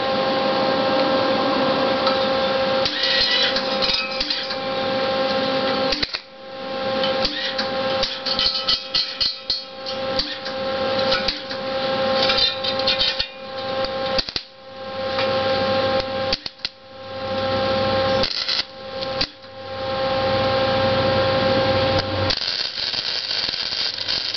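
Welding arc run deliberately too slowly as a demonstration, giving a steady loud crackling buzz with irregular sputters and brief breaks, continuous for most of the span.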